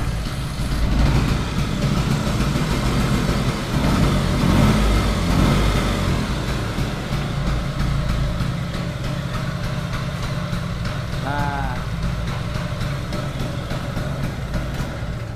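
A Royal Enfield Himalayan 400cc motorcycle engine idles steadily up close, a continuous low rumble that holds an even pace throughout with no voices.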